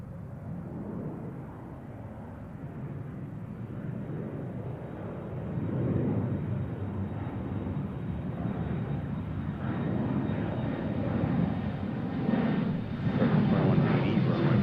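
Embraer 175 airliner departing Seattle, a steady broadband jet roar with low rumble that swells gradually over about fifteen seconds, heard from a distance outdoors without clear talk.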